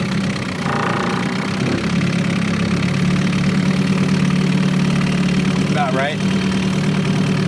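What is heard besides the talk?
Evinrude 4hp Excel outboard motor idling during water test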